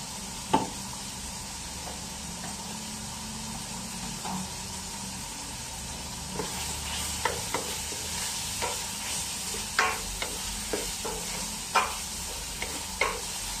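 Shrimp sizzle steadily in a hot frying pan while a utensil stirs them, sharp scraping knocks against the pan breaking through the continuous frying hiss.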